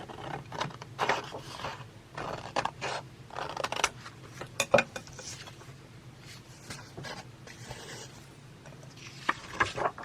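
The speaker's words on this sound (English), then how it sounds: "I'm cutting this piece now." Scissors snip through fabric for a slow-stitch journal cover, a string of soft close cuts and rustles at an uneven pace, quiet and with no talking.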